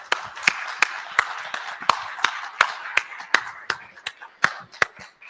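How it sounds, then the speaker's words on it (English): Sparse, steady clapping at a tech conference roundtable, crisp individual claps at an even pace, close and fairly quiet, from only a few hands. "Let's give them a round of applause to start with"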